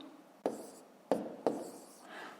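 Pen strokes on paper while numbers are written down for a fifth-grade math exercise, three sharp taps followed by soft scratching, quiet and close with no talking.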